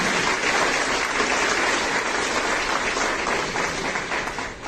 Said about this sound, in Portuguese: Voltem uma grande salva de palmas.